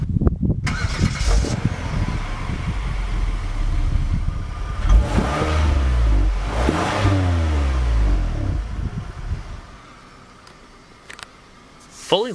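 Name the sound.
2012 Kia Sorento SX engine starting with push-button ignition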